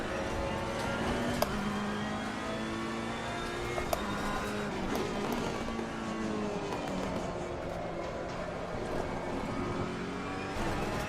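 A Ferrari race car engine in a sim racing game drones steadily and close throughout, its pitch rising and falling through gear changes and corners, with a few brief clicks along the way.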